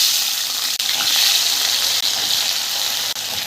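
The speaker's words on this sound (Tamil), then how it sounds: "பாருங்கள், நல்லா இந்த எண்ணெயிலேயே இந்த பாவக்காய் நல்லா வதங்கணுங்க." Small bitter gourd pieces fry in hot tempering oil, a loud, steady sizzle and crackle close up, broken by three brief dropouts, with no voices heard.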